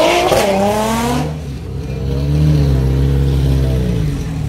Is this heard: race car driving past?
yes